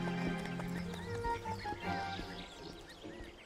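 A horse in an animated fantasy series gives a whinny amid hoof clatter, with a rising-and-falling neigh over a busy, fairly loud background and no talking.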